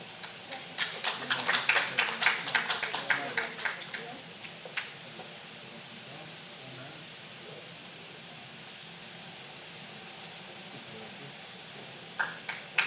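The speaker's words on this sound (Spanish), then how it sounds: "Aplauso, por favor." Audience applause at a public forum on citizen protection: a lively patter of clapping for about four seconds that quickly dies away to a quiet room, then a few claps return at the very end.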